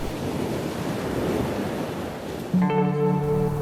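Ocean surf washing steadily onto a glittering beach, a continuous broadband wash of breaking waves, joined near the end by a sustained tonal hum.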